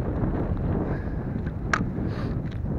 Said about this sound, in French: là ce putain de vent, je sais pas si vous l'entendrez à la caméra